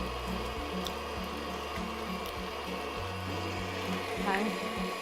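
A stand mixer runs steadily through biscotti dough, its low motor hum stepping and shifting in pitch as the beater turns, with soft knocks against the bowl, continuous and fairly close.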